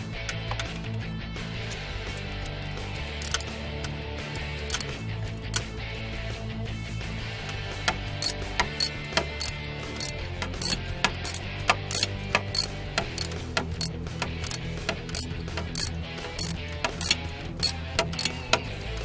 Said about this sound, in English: I'm going to go ahead and pull my plug back out, hopefully without the insert.